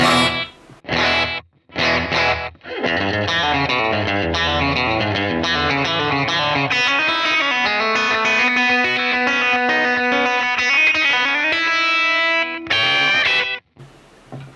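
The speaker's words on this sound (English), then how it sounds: "obviously an iconic country guitar sound is slapback delay." An electric guitar plays a twangy country phrase with a short slapback delay echo doubling each note, bright and close, between brief pauses.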